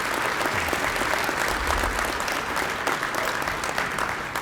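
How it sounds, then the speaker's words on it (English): A brunch audience gives a steady round of applause for standing legislators at a Louisiana caucus scholarship jazz brunch, with continuous dense clapping from a sizable crowd and no pauses. "I'd like to ask these members to stand again and give them a round of applause."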